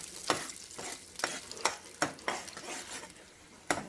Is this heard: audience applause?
no